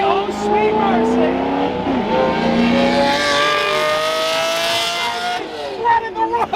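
A loud Mercedes engine revs and roars continuously, pitch climbing and shifting as it accelerates, close and dominant throughout.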